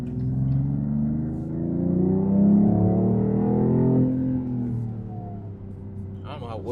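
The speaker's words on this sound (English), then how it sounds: "I don't know how well you guys hear the exhaust note and everything, but man, this thing is pretty quick" A 2026 Dodge Charger Scat Pack accelerates from inside the cabin, its engine and exhaust note a steady low rumble that swells and fades over several seconds, mixed with some in-car chatter.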